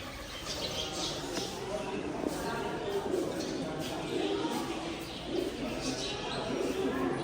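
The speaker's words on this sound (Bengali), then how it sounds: "পায়রাই দেখো" Pigeons cooing at a Radha-Krishna temple in Puri, low soft coos under a busy outdoor murmur and nearby talking.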